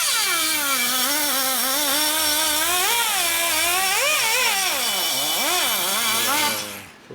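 A power cutting tool works on the top end of a 2004 Harley-Davidson FLHT Twin Cam touring bike during a rebuild. It gives a loud, continuous, close whine whose pitch rises and falls throughout before cutting off.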